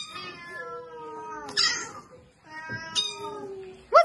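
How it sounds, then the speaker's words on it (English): A cat meows three times, short close calls spaced about a second and a half apart, with no voices over them. "It's a cat."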